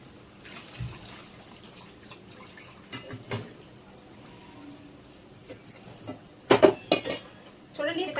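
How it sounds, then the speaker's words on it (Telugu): Fish curry is stirred in a pot, giving scattered metallic clinks and scrapes of a utensil against the vessel, a few louder bursts near the end, over a quiet kitchen background. "ఇది కలిసేటట్టుగా చక్కగా తిప్పేసుకోవాలి"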